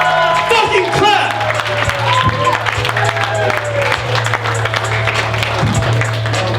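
A comedy club crowd in Las Vegas bursts into loud applause with cheers and whoops for a comedian taking the stage at midnight, while a host's amplified voice talks over the clapping.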